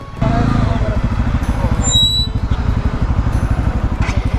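A motorcycle is ridden in to park on a road trip from Cox's Bazar to Bandarban, its engine putting steadily and close by in a fast, even pulse for several seconds.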